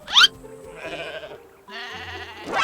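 A goat in Goat Simulator 3 bleats in short, wavering cries, one sharp loud call at the start followed by longer quavering bleats separated by brief gaps.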